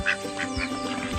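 Several ducks quack in a farmyard among chickens, three or four short nasal calls in quick succession, close and loud with no talk over them.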